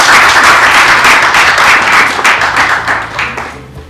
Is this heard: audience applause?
yes